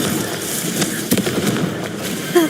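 Confringo blasting spell explosion with broad crackling bursts and pops, a sharp burst near the end, fairly loud throughout.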